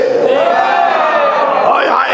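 A large crowd at a Muharram majlis in a Mumbai imambargah shouts the Naara-e-Haidari slogan in one loud, sustained chorus of voices, close and filling the space.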